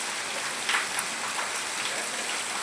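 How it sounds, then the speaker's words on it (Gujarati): Steady rain falls on a village during a heavy, all-night monsoon downpour, a constant soft patter of drops with a few sharper taps, no voices. "अभी भी नहीं रुका है वरसाद"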